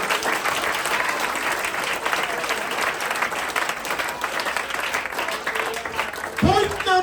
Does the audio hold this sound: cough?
no